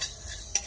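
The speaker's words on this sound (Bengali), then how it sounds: "আর মশলাটা এবারে ভেজে নেবো, নিয়ে আমি গুঁড়ো করে নেবো। হালকা করেই ভাজবো।" Whole biryani spices are dry-roasted in a pan, with a brief burst of stirring: soft scraping and a couple of light metallic clinks, close up.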